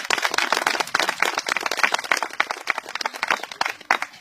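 An audience at a garden's twentieth-anniversary gathering breaks into brisk, sustained applause, many hands clapping densely at moderate distance without speech.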